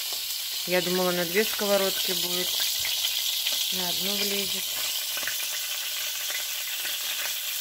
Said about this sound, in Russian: У тебя, наверное, вся рыбка на сковородку влезет.